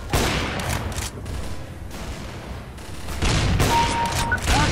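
Gunfire from Counter-Strike: Source rattles in dense, rapid bursts of overlapping shots, loud and close, with a lull in the middle before the firing picks up again.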